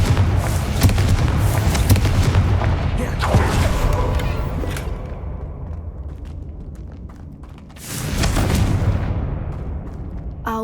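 Confringo fire spell blasting in the video game Hogwarts Legacy: loud booming bursts with rumbling debris, one near 3 s and a strong second blast near 8 s, over continuous game ambience and effects.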